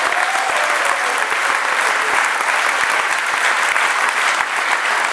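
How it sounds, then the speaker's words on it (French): Audience applause at a French political speech on rural and hunting issues, continuous dense clapping from a large crowd, steady and loud throughout without letting up. "et on peut l'applaudir"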